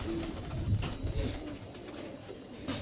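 Pigeons coo in a loft, several low throaty calls overlapping at close range over a steady background murmur.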